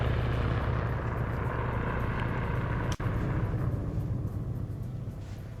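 Helicopter in the Arma military shooter during an OFCRA PvP match, a steady loud rotor and engine drone filling the whole stretch, broken by one sharp crack partway through.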